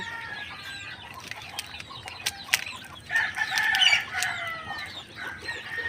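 Several young chickens cluck and chatter nearby, with short excited calls rising toward the end over a soft outdoor background in rural Bohol, Philippines.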